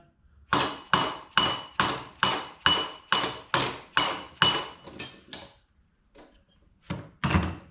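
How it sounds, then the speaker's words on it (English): A dead blow hammer drives a pinion yoke onto a Dana 30 axle in about ten evenly spaced, close, loud thuds, followed by a pause and a couple of scattered blows, no talk. "if you have trouble pushing your pinion yoke on, you can take a dead blow, hold the pinion from the inside"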